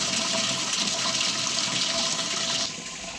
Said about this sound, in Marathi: पाणी भरून घेते आता